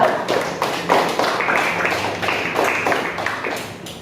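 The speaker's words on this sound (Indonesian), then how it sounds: "tepuk tangan dulu untuk kelompok 2" Scattered clapping from a classroom group applauding a student team's presentation, irregular claps close by running throughout with a faint hum underneath.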